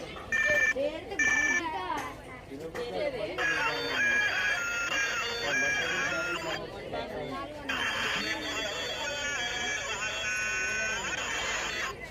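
An old toy mobile phone plays bright electronic ringtone melodies in bursts, its beeping tones repeating over a busy background of chatter and voices nearby.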